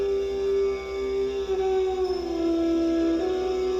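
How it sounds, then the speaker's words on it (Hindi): A jackal howls in a forest, a long sustained wailing tone that wavers and slides slightly in pitch, moderately loud and alone without voices. "मार्ग में कहीं सियार की बोली सुनाई पड़ती थी तो कहीं उल्लुओं की।"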